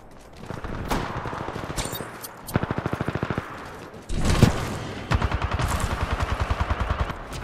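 Titanfall 2 multiplayer gunfire: rapid automatic bursts of rhythmic, punchy shots, several separate volleys with short pauses between them.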